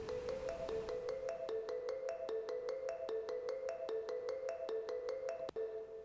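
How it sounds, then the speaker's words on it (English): A sampled marimba plays a bright, repeating melodic pattern from a programmed piano roll, each mallet note ringing with reverb tails; steady and loud with no voices over it. "I also added a maramba."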